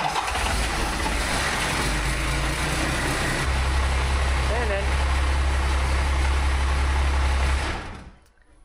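A Jaguar 12-valve engine being started for the first time runs at a steady, loud, droning idle with a deep low rumble for about seven seconds before cutting off, and people talk faintly over it.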